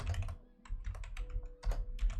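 Rapid typing on a computer keyboard, close and clear, with a steady run of clicking keystrokes and brief pauses, and no talking over it.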